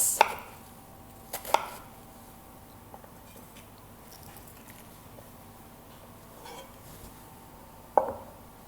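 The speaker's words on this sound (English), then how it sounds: "put it flat and cut into even planks" A knife cuts a head of cabbage into flat planks on a board, giving a few sharp, close chops spaced seconds apart over quiet background, with no talking.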